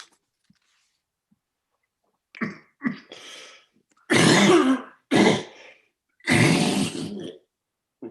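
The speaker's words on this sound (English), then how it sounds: "I'm going to mute myself because I'm coughing." A person on a video call coughs and clears their throat in a quiet room, starting with a few short hacks and building to several loud, close bursts with silent pauses between them.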